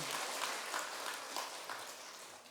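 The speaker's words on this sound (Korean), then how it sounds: "여러분 박수 한번 쳐보소" Soft applause from a church congregation during a Sunday sermon, a faint, steady patter of many hands that tapers slightly toward the end.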